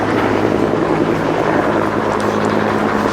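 A helicopter flying over a Vietnam War reenactment at an outdoor fort festival, a steady loud rotor drone with low tonal hum running continuously throughout.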